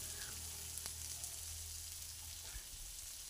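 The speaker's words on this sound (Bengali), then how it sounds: "হালকা ভেজে নেব।" Food fries lightly in a pan on the stove, a faint steady sizzle with a couple of small scrapes and clicks, no voices.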